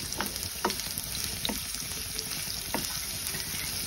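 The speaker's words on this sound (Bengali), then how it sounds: "রসুন কুচিটা প্রথমে একটু ভেজে নিচ্ছি" Chopped garlic and onion frying in a pan for a radish-and-lentil dish, giving a steady close sizzle with a few soft scraping stirs, no voices.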